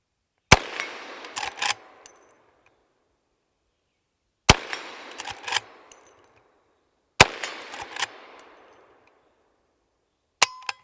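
A .357 Magnum Henry Big Boy rifle fired outdoors at a steel dueling tree: three sharp shots several seconds apart, each followed by a cluster of ringing metallic clangs from the plates, with one more shot at the end.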